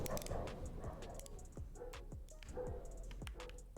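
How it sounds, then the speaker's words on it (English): A neighbors' dog barks several times at a distance, short sharp yelps spaced a second or so apart over steady low background noise. "I think our neighbors legitimately got a new dog that barks more than the old dog."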